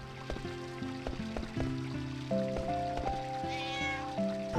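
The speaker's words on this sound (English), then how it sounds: "Certainly sounds like a cat." A cat in Final Fantasy 9 meows repeatedly over a playful melody of plucked notes. The meows are short and clear, there are several of them, and they rise near the end.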